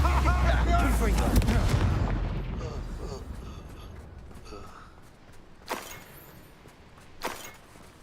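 A Confringo fire spell blasts a beast in Hogwarts Legacy, giving a loud, rumbling burst over the opening two seconds that fades into quieter background, with two short sharp cracks later on. Someone speaks during the blast.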